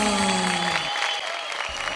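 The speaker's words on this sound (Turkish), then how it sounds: "Alkışlarla uğurluyoruz." An audience claps in a Turkish TV studio show, a dense, steady burst of applause with music underneath, continuous and fairly loud throughout.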